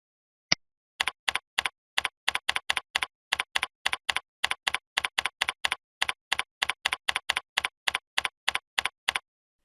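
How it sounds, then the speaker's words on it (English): Rapid typing on a computer keyboard, with a single click and then a steady run of crisp, close keystrokes in quick uneven bursts. No voices. "type some introductory or instructional text"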